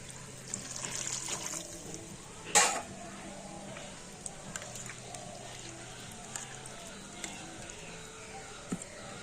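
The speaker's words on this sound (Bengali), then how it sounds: "এবার আমি জল দিয়ে নারকেলটা ভালো করে ধুয়ে নেবো" Small cut coconut pieces are rinsed with water, a faint ongoing trickle and splash with one brief louder burst of water early on, quiet and close.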